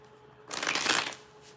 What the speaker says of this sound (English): Fast shuffle, but okay, we can do it.